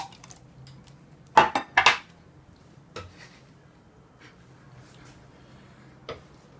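Beef being stirred into pasta in a pan, heard as a quick cluster of sharp metallic clinks and scrapes of a utensil against the pan, then a few sparse lighter taps over a quiet background.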